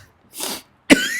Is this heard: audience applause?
no